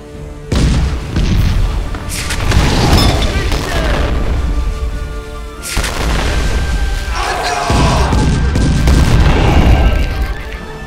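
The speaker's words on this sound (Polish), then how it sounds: "Zaczęto wtedy bić z armat z tamtej strony" Cannon fire in a battle: a few heavy booming blasts, each followed by a long rumbling roar that fades out, loud and close. The blasts come in two waves.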